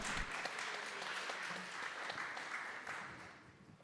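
Conference audience applauding, a continuous soft wash of many clapping hands heard from a distance that tapers off toward the end.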